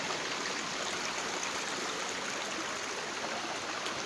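A clear stream flows through dense jungle beside a creek, a steady, close rushing and gurgling of water that holds constant throughout with no voices.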